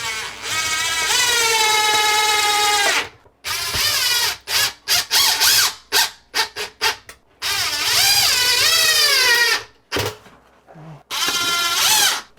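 Power drill driving 2-inch cabinet screws into shelf brackets on store-bought shelving, whining in long sustained runs with rising pitch, then a burst of short stop-start pulses, then another long run, loud and close with no talk.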